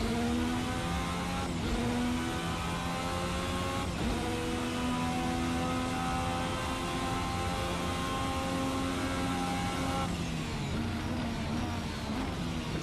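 Engine whine and turbo whistle from a 1986 Formula V6 turbo car in the Race Sim Studio racing game, a dense steady drone with shifting harmonic pitches and brief dips at gear changes.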